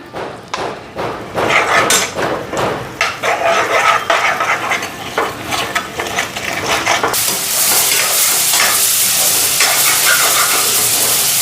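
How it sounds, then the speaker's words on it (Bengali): Spices frying in a pan with turmeric and salt added, a steady sizzle rising to a dense, loud hiss in the second half, with scraping spatula strokes on the pan throughout. "ওইদিকে মশলাটা ভাজা ভাজা হয়ে গেছে"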